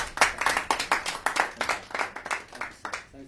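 Audience applause at a European Parliament forum for speaker Wajid Khan, a short burst of distinct claps from a modest group, close and lively, fading out toward the end.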